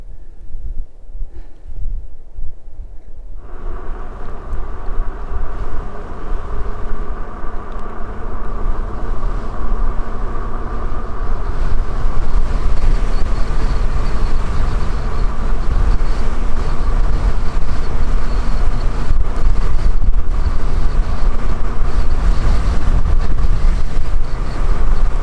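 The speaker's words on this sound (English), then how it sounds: "Windy." Strong wind blows steadily across an exposed mountain spot at around 10,000 feet, a loud continuous roar buffeting the microphone after a brief quieter start, with no voices.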